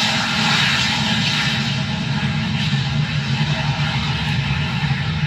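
An airplane engine sound effect plays in a French-language radio prayer broadcast, a loud, steady roar of aircraft engines holding at an even level throughout, with no speech over it.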